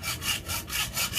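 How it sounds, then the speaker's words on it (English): A masonry drill bit grinds pilot holes into a geode with a rough, rasping whir that pulses in steady strokes, close and moderately loud, with no voices. "And then I got a mason bit and drilled into it right there and right there."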